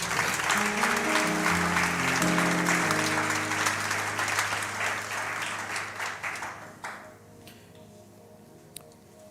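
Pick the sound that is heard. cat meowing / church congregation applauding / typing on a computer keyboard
church congregation applauding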